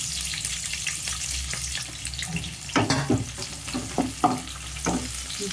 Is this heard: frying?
yes